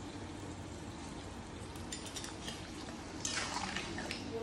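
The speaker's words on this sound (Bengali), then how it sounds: "মাছের মাথাটা আগে দিয়ে দিচ্ছি।" A fish head goes into a hot cooking pan in a home kitchen. After quiet clinks of a utensil, a sudden bright sizzle bursts up and keeps hissing steadily.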